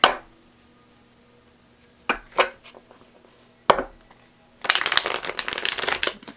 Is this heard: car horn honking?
no